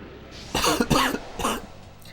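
Three harsh coughs in quick succession from a lingering cough after illness, close and fairly loud, over a quiet background.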